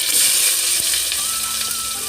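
Chopped onions hit hot oil already holding bay leaves and dried chillies, giving a dense, even sizzle that stays close and loud for the whole brief moment.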